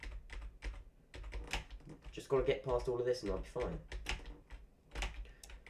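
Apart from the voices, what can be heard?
loud computer keyboard typing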